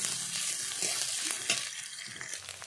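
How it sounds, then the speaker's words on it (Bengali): Chopped chilli and onion fry in hot oil with a steady, close, bright sizzle and occasional stirring scrapes. "এখানে আমি লঙ্কা কুচি আর পেঁয়াজ কুচি দিয়ে দিয়েছি। দিয়ে কিছুক্ষণ ভেজে নেব।"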